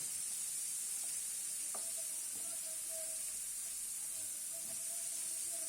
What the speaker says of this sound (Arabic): هشوحهم كده في شوية الزيت مكان اللحمة